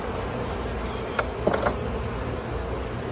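Honeybees around an open summer hive during an inspection, a steady close buzzing drone with a few brief louder passes as individual bees fly near, and no talk.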